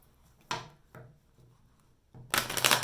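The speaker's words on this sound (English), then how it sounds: "Do one more shuffle for Aries." Tarot cards being shuffled by hand: a few short, crisp riffles with pauses between them, ending in a longer, louder burst of shuffling close to the microphone.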